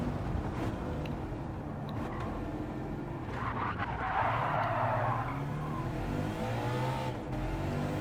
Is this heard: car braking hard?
yes